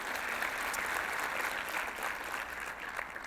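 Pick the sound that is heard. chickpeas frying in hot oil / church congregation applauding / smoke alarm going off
church congregation applauding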